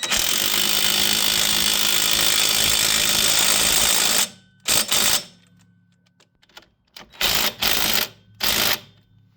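A Ryobi power tool works on a wheel hub of a 2011 Chevy HHR, running in one loud, continuous, rattling burst for about four seconds. Three short, sharp bursts follow after a brief pause.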